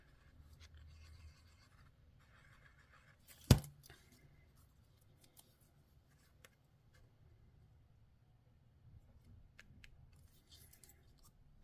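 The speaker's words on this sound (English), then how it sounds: "cutting all of the little pieces of Designer Series paper" Scissors cutting small pieces of Designer Series paper for a faceted Easter egg craft: one sharp, close snip, then sparse faint clicks and paper rustles in a quiet room.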